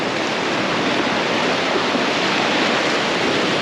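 Ocean waves break on a beach where someone is surf fishing for tailor, giving a constant loud, broadband wash of surf with no talking.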